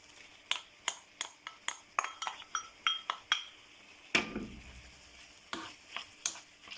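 A utensil clinks repeatedly against a pan while rice is stirred for Thai fried rice, a steady series of close, sharp taps, then a brief rustling scrape and a few more knocks.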